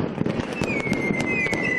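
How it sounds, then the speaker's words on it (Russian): Chinese New Year fireworks over Beijing, a dense run of sharp cracks and bangs with a whistling streak rising through them, loud and continuous. "В ночь со среды на четверг небо Пекина озарил фейерверк."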